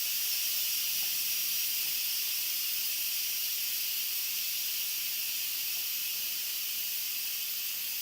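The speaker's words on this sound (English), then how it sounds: "Turn your vent so that it is away from your cabinet, and go ahead and let your pressure out" Steady, loud hiss of steam venting from an Instant Pot during quick pressure release after cooking hard-boiled eggs, a continuous even rush that holds for the whole stretch with no talk.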